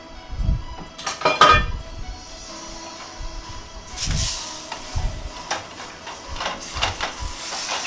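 A whole trout set into an oiled skillet with loud metallic pan clatters and knocks early on, followed by a soft sizzle and scattered clinks.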